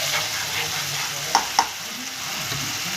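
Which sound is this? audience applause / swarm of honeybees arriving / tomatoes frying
tomatoes frying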